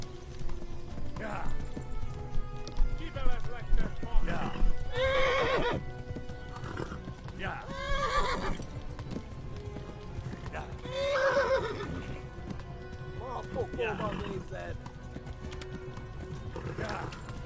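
In a video game, hooves clip-clop rapidly as a horse runs, with several loud whinnies and neighs rising over the galloping and a voice calling out.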